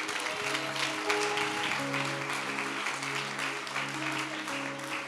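A church congregation applauds and cheers steadily for the whole stretch, dense clapping and voices with a sung or sustained musical tone underneath.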